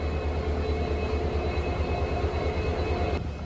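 A WDP 4D diesel locomotive, number 40093, idles at Palakkad Junction before a passenger run to Nilambur, producing a loud, steady, low throbbing drone with a faint rhythmic pulse throughout.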